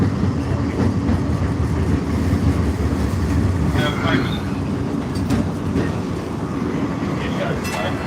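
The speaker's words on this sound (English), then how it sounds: "Might be a train." Broadband rumble of a train on the Mattapan/Ashmont transit line, steady and fairly loud throughout, with faint squeals and clatter near the middle and end.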